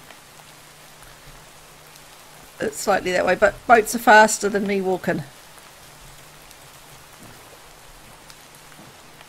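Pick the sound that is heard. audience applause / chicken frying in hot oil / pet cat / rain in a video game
rain in a video game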